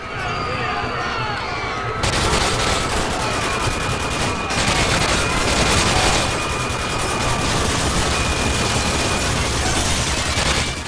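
Dense, continuous automatic gunfire rattles in the video game Modern Warfare 2, a loud barrage of overlapping shots that intensifies after a brief quieter opening and keeps going without pause.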